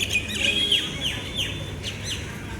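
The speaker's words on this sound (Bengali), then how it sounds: "শালিক পাখি, দেখো তারও বাসায় ফিরবে।" A common myna calls at dusk near a market, sending out a quick run of sharp, falling chirps and whistles that repeat close by over a low background hum.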